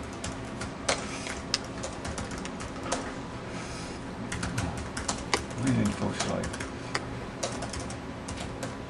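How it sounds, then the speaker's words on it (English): Typing on a computer keyboard, a string of quick light key clicks at uneven pace, close by, while a person talks over it and bird calls sound faintly in the background. "you're filming me typing and I'm not a very good typist"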